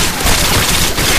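A tri-bolt gun firing in Call of Duty: Modern Warfare 2, a dense, loud, continuous barrage of shots with no gaps and no talking.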